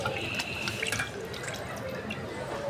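Tap water runs steadily into a kitchen sink as fish is washed, a continuous close splashing stream with faint drips.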